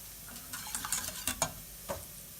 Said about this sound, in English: quickly give my onions another little stir